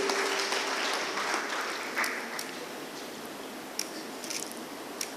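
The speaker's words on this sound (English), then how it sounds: "Once again, clap for you." A graduation ceremony audience at a homoeopathic medical college applauds, a sustained, moderately distant wash of many clapping hands with a few sharper claps standing out.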